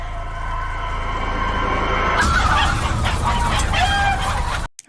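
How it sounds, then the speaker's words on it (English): Chickens cluck in a barnyard alongside the sound of a rooster crowing, the poultry noise loud and steady throughout before cutting off abruptly near the end. "Are they dumping her in with the chickens?"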